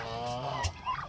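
A hybrid turkey gobbles once, a quick warbling rattle of calls, close and fairly clear over faint background noise.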